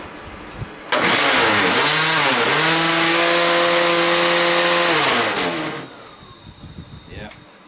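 Old electric blower whirs up to a loud, rough, steady drone, rattling noisily for several seconds before winding down, close by with no talk.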